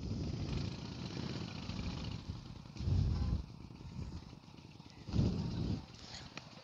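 A motorcycle engine, either a Harley-Davidson Forty-Eight or an Indian Scout, runs steadily nearby with a low, lumpy rumble that swells louder twice, like brief throttle blips.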